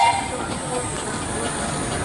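Miniature steam engines roll into the arena at the Netley Marsh steam vehicle show, giving a steady hiss and low rumble with no clear breaks.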